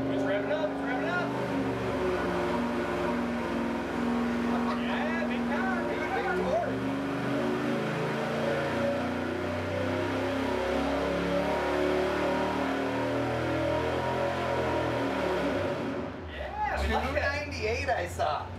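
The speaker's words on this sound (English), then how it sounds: "It's revving up." A Chevy small-block engine of about 300 horsepower, running with no oil, revs loudly and steadily at high throttle for most of the clip before dropping off, while people talk over it.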